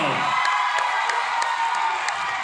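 A large studio audience at a televised Malaysian comedy competition semifinal cheers, whoops and claps for two comedy groups, a dense continuous roar with sharp claps and shouts over it throughout.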